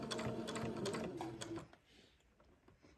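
Domestic sewing machine stitching fabric while sewing beside a cable row on a knitted bonnet, running in a fast steady whir for about a second and a half, then stopping and leaving quiet handling.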